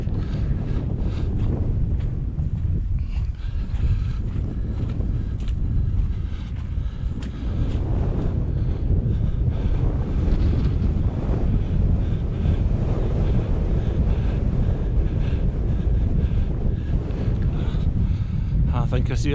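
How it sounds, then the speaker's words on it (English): Strong wind on the Merrick mountain top buffets the microphone in a constant, loud, low roar for the whole stretch, rising and falling slightly, with a voice now and then partly buried beneath it. "this wind's picking up"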